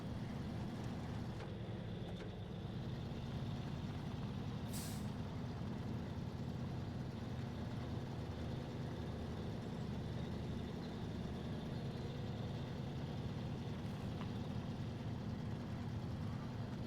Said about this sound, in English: This truck just doesn't have the power under the hood, even though it's got all-wheel drive.